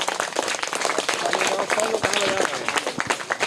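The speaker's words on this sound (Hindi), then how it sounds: "उनके लिए एक बार और जोरदार ताली हो जाए" Class 3 children clap for the first winner of a classroom quiz, brisk scattered applause mixed with voices and some chatter.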